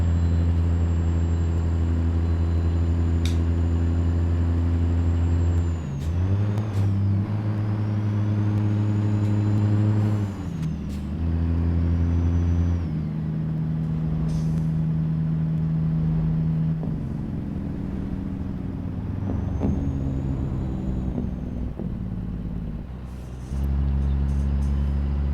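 A C15 engine in an FLX 359 truck hauling an oilfield lowboy up a Montana hill in American Truck Simulator, a steady, deep droning hum that slows under load, with pitch shifts as gears change and a brief air-brake hiss.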